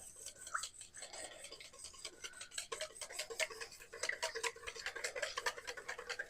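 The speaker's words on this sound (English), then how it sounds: "We switch up to the whisk, and we're going to get this beaten up real good." A whisk beats key lime pie filling in a bowl, making a fast, steady run of light clicking and scraping strokes that grows busier toward the end, with no talking.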